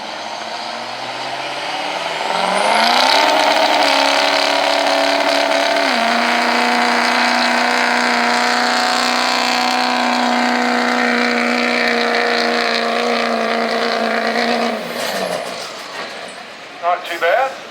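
A 6-liter diesel truck engine roars during a fair truck pull, climbing to a loud sustained drone for about twelve seconds before easing off, with an announcer talking over it.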